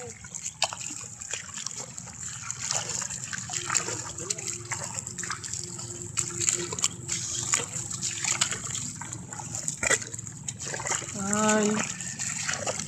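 Irrigation water flows through a farm field in a steady broadband trickle and gush, with a brief voiced exclamation near the end.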